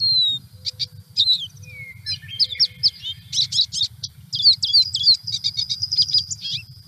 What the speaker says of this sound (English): Let's listen to them. The American goldfinch.